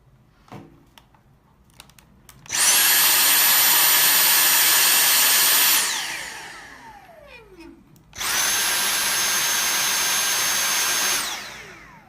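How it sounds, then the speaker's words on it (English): A Dyson V7 cordless vacuum cleaner running on regular power whines loud and steady in two separate bursts, each spinning down with a descending pitch, after a faint click beforehand. "and then the D7 on regular"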